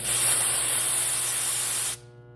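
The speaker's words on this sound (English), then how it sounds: "So the way I purge mine is I now have pressure coming up this hose and also up the red hose." Refrigerant gauge hoses, blue and red, purged on an A/C system give a steady loud hiss that cuts off abruptly near the end, leaving a faint tonal hum.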